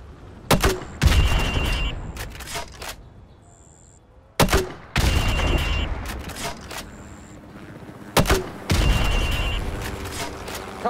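Grenade launcher rounds fired into building windows in Call of Duty Modern Warfare Remastered: three heavy, close blasts spaced roughly four seconds apart, each trailing into a rumbling, crackling tail, with brief electronic game tones between.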